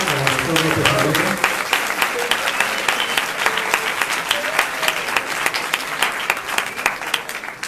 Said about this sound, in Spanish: Un aplauso para el doctor López Aguirre.